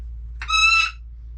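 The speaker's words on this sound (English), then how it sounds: "Oh, my bird is going nuts." A pet bird lets out a single loud, shrill squawk lasting about half a second in an RV kitchen, standing alone against a low background hum with no talking.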